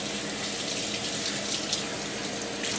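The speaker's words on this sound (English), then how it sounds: "I'm washing these little fucking bowls." Small custard-cup bowls are washed under a running kitchen tap; a steady, close rush of water splashes continuously into the sink without talk.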